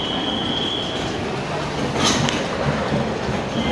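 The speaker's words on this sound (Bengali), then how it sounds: "আর ট্রেন কিন্তু ছেড়ে দিল" Rumbling train running on the Kolkata to Sairang route, a steady broadband roar of wagons on rails with a brief brighter screech of wheels in the middle, heard close from inside the train without voices.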